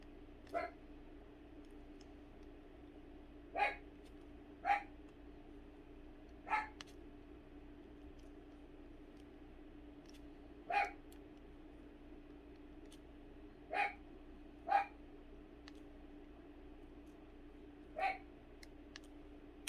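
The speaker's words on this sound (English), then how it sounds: "I apologize for my dog barking" A single dog barks indoors, short sharp yaps spaced several seconds apart, faint and somewhat distant against a steady low hum.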